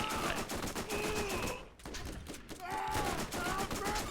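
Rapid SMG gunfire from the video game Borderlands, dense bursts of automatic shots crackling across most of the clip with a short lull in the middle, loud and close with game sound effects.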